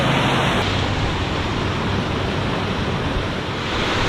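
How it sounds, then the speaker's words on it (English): A swift river rushes as steady broadband water noise, loud, close and unbroken throughout, with no voices. "the river's running pretty swift too."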